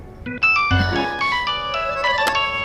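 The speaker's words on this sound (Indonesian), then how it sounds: "Aku angkat telepon dulu." A mobile phone ringtone plays a bright, repeating electronic melody in a dubbed drama scene, loud and close, continuing steadily for a few seconds with no talk over it.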